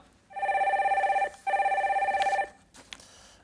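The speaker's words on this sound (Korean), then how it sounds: "네, 여러분들 첫 번째 전화 연결 그냥 빨리 받아볼게요." A telephone on a call-in show rings in two long trilling bursts with a short gap between, clear and close, followed by a brief quiet pause.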